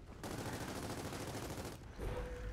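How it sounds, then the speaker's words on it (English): Rapid automatic gunfire in Gears of War 4 during a king-of-the-hill multiplayer match, a dense continuous burst of shots that stops briefly near the end before another sound starts. "There's a guy shooting from the middle."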